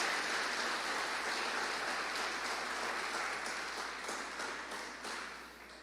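A church congregation clapping during a worship service, a broad sustained roar of many hands that stays full and steady before tapering slightly toward the end, with no speech on top.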